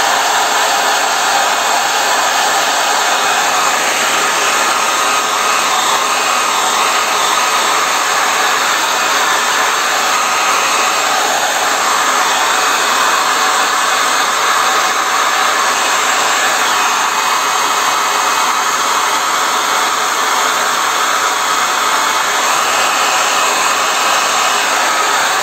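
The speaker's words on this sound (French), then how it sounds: "Là, je vais mettre un coup de sèche-cheveux de l'intérieur." A hair dryer blowing steadily at full power inside a black powder revolver, a loud continuous whooshing hiss with no pauses, close up and unbroken throughout.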